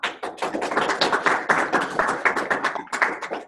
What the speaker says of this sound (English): that was raucous applause here